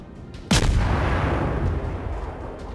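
A single heavy naval gun blast from a warship in World of Warships booms sharply and then rolls off into a long, low rumbling decay.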